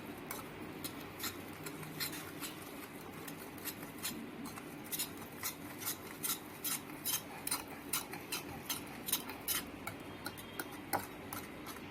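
Batter being mixed with sugar powder in a bowl for a homemade cake, a steady run of quick, light clinking taps from the utensil against the bowl, close and fairly soft, with no one talking.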